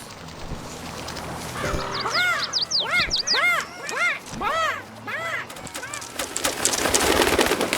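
Birds in the Pirate101 video game coo and call in a rapid series of warbling, rising-and-falling notes over a busy game ambience, ending in a hissy swell of noise.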